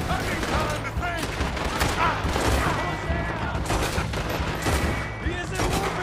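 Dense, rapid gunfire from a Red Dead Redemption II shootout, with overlapping shots and bursts crackling nonstop for several seconds and some voices mixed in.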